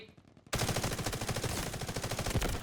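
After a brief quiet moment, rapid automatic gunfire erupts in the mobile shooter Delta Force: Hawk Ops and continues in dense, steady bursts, loud and close, with game-like crackle.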